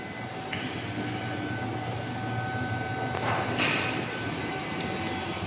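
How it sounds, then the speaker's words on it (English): An automatic machine assembling paint roller frame cages onto handles without screws runs steadily in a factory, a continuous mechanical hum with a steady tone, a brief hiss burst, and a sharp clack near the end. "This is the cage and the handle assembling machine"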